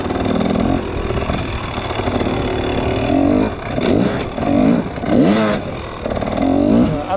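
A dirt motorcycle on Dunlop EN91EX tyres rolling over a ramp in second gear, with a loud, continuous engine note that dips and then rises in repeated revs close to the listener.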